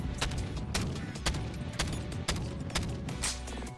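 A rapid string of about eight M1911 .45 ACP pistol shots fires in the Bonelab virtual reality game, sharp and loud, evenly spaced against a dense, roaring backdrop.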